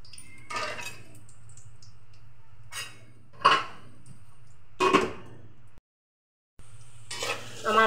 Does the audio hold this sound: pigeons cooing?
no